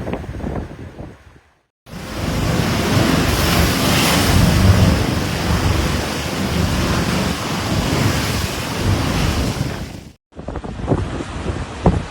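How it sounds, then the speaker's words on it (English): High storm waves crash and roar along the Aberdeenshire coast of Scotland in severe weather, a loud sustained surge of surf with heavy wind buffeting the microphone, with quieter gusty moments before and after. "High waves battered Scotland's east coast amid severe weather conditions."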